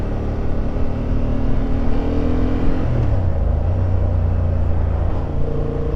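A 2023 Honda Hornet motorcycle pulls hard in first gear, its engine note droning loud and close, then dropping in pitch partway through as the revs fall, steady and without voices.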